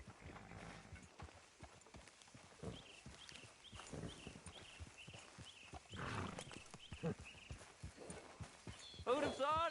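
Horse hoofbeats clip-clop at a steady walking rhythm while riding in the video game Red Dead Redemption 2, moderately close, with characters talking over them and game ambience underneath.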